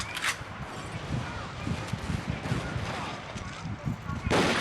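Rapid gunfire from an online first-person shooter, Crisis Action, rattles steadily at close range with dense repeated shots, and a final louder burst near the end.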